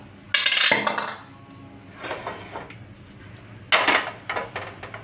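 A lid lifted off a pot of small-fish chorchori curry gives two bright metallic clanks, one near the start and one near the end, with softer clinks and scrapes between them and no talking.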